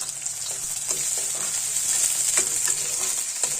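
Onions frying in hot oil for an Assamese pork dish, a steady bright sizzle close by with occasional soft stirring clicks, no voices.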